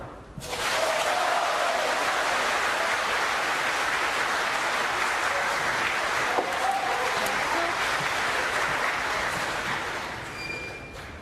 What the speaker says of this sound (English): from the size of the cheer from across the arena